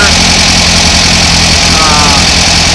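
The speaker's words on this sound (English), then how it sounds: "This is a newer aluminum engine, 2-liter with a 26mm" A newer VW 2-liter aluminum engine with a 26mm oil pump and 26mm-wide gears idles steadily and loudly, a close, even low rumble with a broad mechanical hiss over it, with no pauses for the whole stretch.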